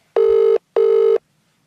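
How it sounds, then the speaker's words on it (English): Two steady ringback tones of a phone call ringing through, each about half a second long with a short pause between, loud and clean with nothing else heard. "It's ringing."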